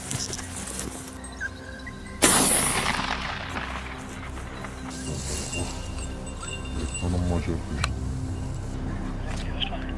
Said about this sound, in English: I fired quickly, but the bullet veered off course